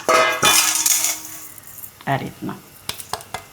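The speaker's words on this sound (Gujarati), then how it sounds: "તો આપણે બધો મસાલો મિક્સ કરી લઉં" Coarsely ground spice masala for a Gujarati mixed pickle being stirred in a bowl: close scraping and clinking of a spoon against the dish, with a voice speaking briefly.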